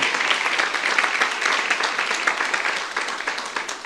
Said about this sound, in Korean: 빨리 박수하세요